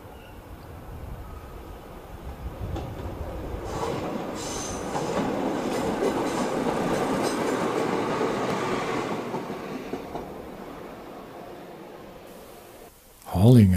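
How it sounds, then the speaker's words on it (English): A Network Rail diesel multiple unit passes on its way to sidings, a broad rumbling roar that swells and holds steady before fading, with faint wheel noise on the rails and a brief higher tone near the end. "Making its way from Edinburgh to Middlesbrough Sidings is a Network Rail DMU."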